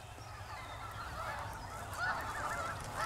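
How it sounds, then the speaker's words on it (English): A large flock of hundreds of snow geese honks continuously, a dense overlapping chorus of calls that swells slightly louder toward the end, heard from a moderate distance over low wind rumble. "We've got hundreds of snow geese in front of us"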